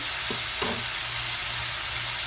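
Shrimp fry in a pan with a loud, steady sizzle and crackle throughout, with a couple of brief stirring knocks early on; no talking.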